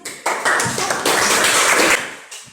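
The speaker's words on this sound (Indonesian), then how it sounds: "Kita berikan tepuk tangan untuk" Students in a maths class clap briefly, a loud close burst of clapping and tapping that rises quickly and fades after about two seconds.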